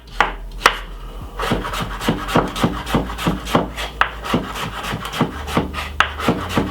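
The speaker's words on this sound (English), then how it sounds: "I'm using roughly half of cucumber, cut it into half, and I'm gonna simply do some small slices." A knife slices half a cucumber into small, even rounds on a cutting board. There are about twenty crisp, close chops in a steady, quick rhythm, with no talking.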